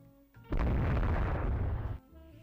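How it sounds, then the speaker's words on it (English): A single heavy 8-inch naval gun salvo in the warship strategy game Rule the Waves 3 erupts as a loud, deep boom that rumbles for about a second and a half over a quiet background hum. "This ability to close down and engage with 8-inch gunfire is really proving useful."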